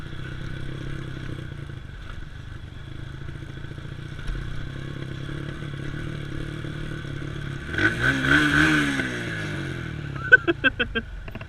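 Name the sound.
motorcycle riding on a descent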